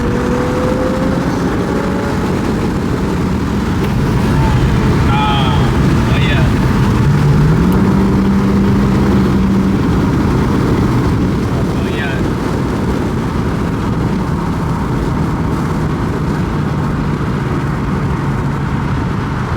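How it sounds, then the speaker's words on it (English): A car with a muffler delete at a Charlotte car meet roars and revs loudly and steadily throughout, its engine drone dominating while people talk faintly underneath. "it's only a muffler delete though. I'm about to go a little louder."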